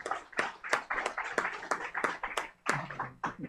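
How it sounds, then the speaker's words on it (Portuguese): A ceremonial audience at a court inspection closing session claps in a sparse, uneven patter of sharp, close hand claps, with a short lull before the clapping picks up again. "esse aplauso é um aplauso ao tribunal"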